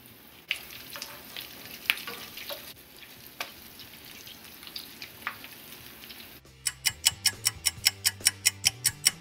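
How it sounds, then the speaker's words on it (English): Fried deviled eggs crackle and sizzle in hot oil with scattered pops, then a steady rhythmic ticking takes over near the end. "Hear that sizzle?"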